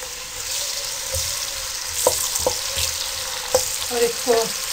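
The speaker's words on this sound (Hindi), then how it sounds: "अब आप इसमें प्याज डाल दें।" Chopped onions sizzle steadily in about a cup of hot cooking oil for an aloo keema, a dense frying hiss with a few clattering stirs and spoon knocks near the end, close and fairly loud with no talk.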